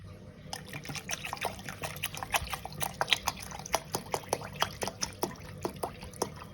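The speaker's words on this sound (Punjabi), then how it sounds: "ਇਹਦੇ ਵਿੱਚ ਆਪਾਂ ਥੋੜਾ ਜਿਹਾ ਠੰਡਾ ਪਾਣੀ ਐਡ ਕਰ ਲੈਣੇ" Cold water is added to ground jaljeera spices, heard as a soft continuous trickle in a kitchen, broken by many small irregular drips and splashes.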